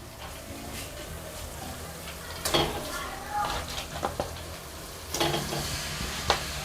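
Washed mutton frying with onions gives a steady low sizzle in a pan. Intermittent stirring scrapes and metallic clanks of a spoon on the vessel sit over it, and faint talk is in the background.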